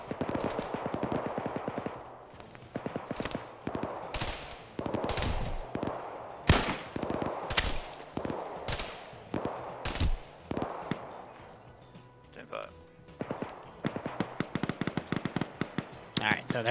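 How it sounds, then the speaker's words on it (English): Bursts of automatic and single-shot gunfire crackle in a military video game, sharp repeated shots scattered throughout alongside faint in-game voices and beeps. "there's more gunfire there as Blue 4 starts firing on some Op4 positions"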